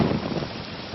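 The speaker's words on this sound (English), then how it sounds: "You gotta sit in the rain." Steady rain falls outdoors as a dense, even hiss of drops on surfaces, continuous and fairly close, with no voices.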